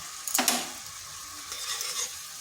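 Turmeric, cumin, coriander and Kashmiri chilli powders are sautéed in a pan for a masoor dal dish with gathi kochu, opening with a loud burst of sizzle and a spatula scrape, then settling into quieter frying with stirring.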